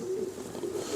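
A pigeon coos softly nearby, a low, steady rolling tone lasting about a second with a slight swell, faint against quiet background.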